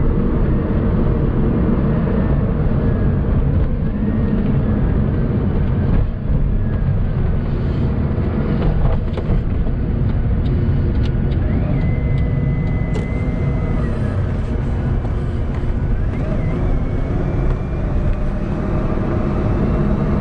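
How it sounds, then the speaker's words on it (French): A Bugatti Veyron cabin drone carries a thin, high turbo whine that rises and falls over the steady engine rumble, continuous and fairly loud. "on entend le bruit des turbos tout le temps en permanence"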